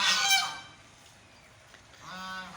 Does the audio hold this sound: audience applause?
no